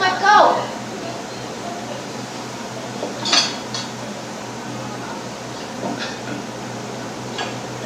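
Dishes and cutlery clink in a couple of brief bursts, one near the start and one a few seconds later, with faint clatter afterward over steady room hum and a background fan.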